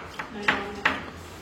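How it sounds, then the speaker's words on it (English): A metal mailbox being opened with a key nearby, a few sharp metallic clinks and clacks spaced irregularly over a quiet background. "Still making noise with the mailboxes."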